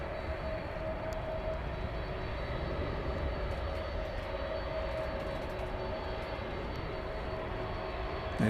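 An American Airlines plane passes overhead at DFW Airport, giving a continuous, moderately distant engine roar with a broad rumbling wash and no voices.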